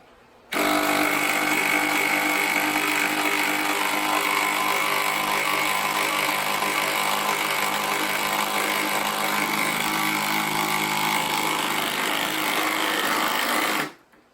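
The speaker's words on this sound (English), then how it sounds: "I'm going to use the 1500 rated inch pound Ryobi 18 volt yellow coated drill. Impact drill. Driver." A Ryobi 18 volt impact driver rated at 1500 inch-pounds runs in one sustained, loud, high-pitched whirring burst lasting about thirteen seconds, starting and stopping abruptly.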